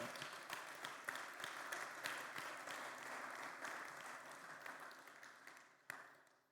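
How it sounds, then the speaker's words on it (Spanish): A church congregation claps steadily through a sermon on marriage and finances, a moderate, fairly distant round of applause that fades near the end with one sharp clap. "Denle un aplauso al Señor."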